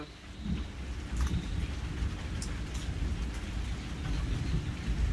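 Steady rain falls outdoors during a thunderstorm, a dense continuous hiss with low rumbling beneath and a few brighter drops spattering on surfaces, without any voices.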